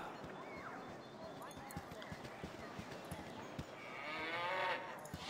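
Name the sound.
cow mooing in Baldur's Gate video game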